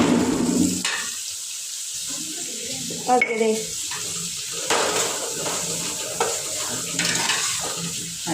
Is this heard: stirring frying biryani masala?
yes